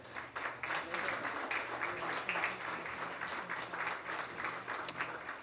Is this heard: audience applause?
yes